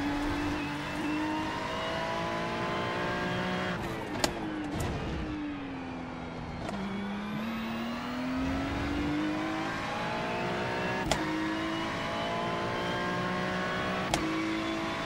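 A GT3 race car laps Le Mans in the iRacing simulator, its engine droning loudly and continuously, with revs sweeping up through the gears, sharp downshift drops, and occasional clicks from the shifts.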